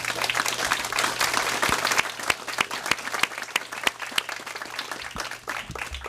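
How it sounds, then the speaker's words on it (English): A city council meeting audience gives a round of applause for green businesses, steady and moderately loud clapping from a crowd filling the whole stretch. "So let's give a round of applause for the green businesses"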